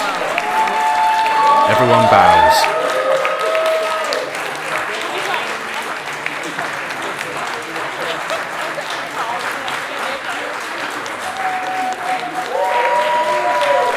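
Sustained applause from an audience at the end of a stage show, a steady wash of clapping with some cheering throughout, while a narrator's voice speaks over it and brief tonal sounds drift in.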